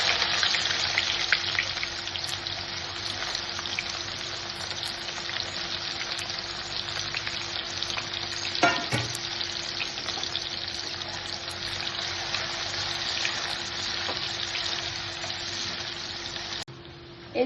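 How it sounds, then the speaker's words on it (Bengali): Sliced onions fry in oil with a little sugar added, giving a steady, dense sizzle that holds close and even throughout, with one brief clink near the middle and no voices. "এই যে পেঁয়াজটা এবার লাল লাল করে ভাজা হয়ে গেছে।"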